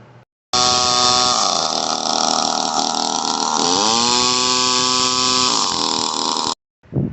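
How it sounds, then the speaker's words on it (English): Echo SRM225 string trimmer two-stroke engine running loud and steady with its muffler removed, a harsh buzzing roar that dips briefly mid-run before revving back up, then cuts off abruptly. "we're going to go ahead and fire this up with no muffler on it, just to blow everything out of it"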